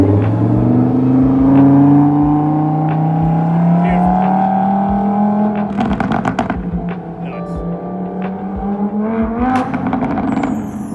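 A Lamborghini Huracan V10 revs loud and close, its pitch climbing and falling in sweeping harmonic arcs, with sharp bursts and crackles toward the end and a steady engine roar throughout.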